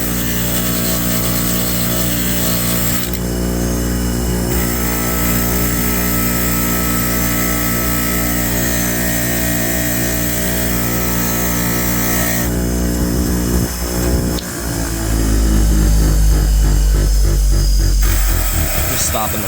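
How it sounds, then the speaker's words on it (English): A wire wheel on a rotary tool whines steadily inside an aluminum cylinder port, loud and close, its pitch shifting as it bears on the metal, with a lower rumble near the end. "I just use a wire wheel."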